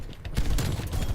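AUG tactical rifle hipfire in Black Ops Cold War, a dense burst of gunfire with booming low-end impacts running through the whole short moment, loud and close amid game noise.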